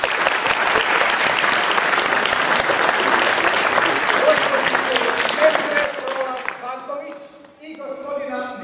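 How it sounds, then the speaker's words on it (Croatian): Applause for a newly married couple entering a wedding celebration, dense and loud from a large crowd for about six seconds, then thinning as a voice and accordion-like tones come in. "Molim vas jedan veliki pljesak za naše mladence."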